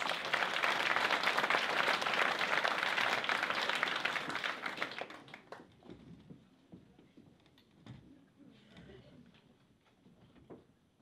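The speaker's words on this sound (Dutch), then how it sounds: "Dames en heren, geef haar een groot applaus." Audience at a glamour night event breaks into dense applause, many hands clapping strongly for about five seconds before thinning to scattered claps and quieter room noise with faint voices.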